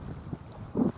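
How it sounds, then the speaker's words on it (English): Gusty south wind buffets the microphone in low rumbling bursts beside a dam, with a stronger gust near the end of the brief moment. "definitely windy out here"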